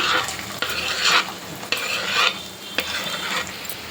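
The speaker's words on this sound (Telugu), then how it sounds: "నేను రెండు మీడియం సైజ్ ఉల్లిపాయలు ఇలా చిన్న చిన్న ముక్కలుగా కట్ చేసుకున్నాను సో ఇప్పుడు ఆయిల్లో వేసుకుంటున్నాను" Two medium onions, chopped small, hit hot oil for gongura chicken curry, giving a loud, close hiss that swells in waves as they are stirred, with sharp scrape bursts roughly every half second to second.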